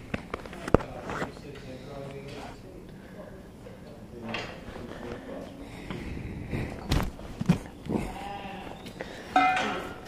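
Sheep at a livestock market bleat intermittently, some calls close and some farther off, mixed with footsteps, clattering pen gates and people talking.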